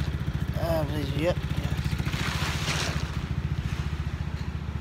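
An ATV engine idles and runs with a steady low throbbing rumble throughout, close by, while a person speaks briefly over it.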